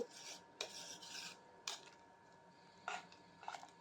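A spoon scrapes and rubs through rice, vegetables and masala in a pot while vegetable biryani is being mixed, several short rasping strokes with quiet pauses between them, soft and close.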